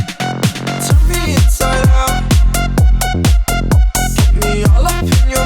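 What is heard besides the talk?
tech house track big drop with vocal, lead, bass line, drums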